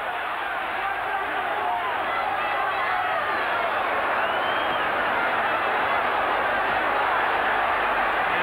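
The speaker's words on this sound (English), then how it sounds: "Crowd raising every time Duran gets stuck in" Boxing arena crowd at a Roberto Duran versus Davey Moore fight roaring in a continuous loud wash of cheers and applause, steady and unbroken throughout.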